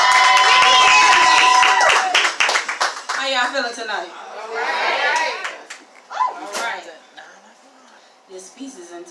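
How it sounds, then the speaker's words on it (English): Audience clapping at an open mic poetry show, a dense burst of applause for the first two seconds, then thinning to scattered claps and cheers as people talk and laugh over it. "Keep clapping it up for this queen."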